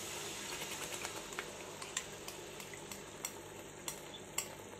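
A curd mixture fries in a pan for paya curry, a continuous sizzle punctuated by frequent light scraping and clinking strokes of a spoon stirring it, close and moderately loud, with no talking.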